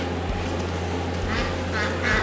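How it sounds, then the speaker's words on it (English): Ducks quack in a few short bursts on a homestead, moderately close, over a steady low rumble of background noise. "here's my ducks."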